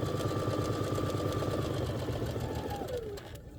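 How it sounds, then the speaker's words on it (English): A sewing machine stitches the lining of a wristlet zipper pouch, running in a steady, fast, continuous whir close by with no pauses and no talking. "we're going to start sewing"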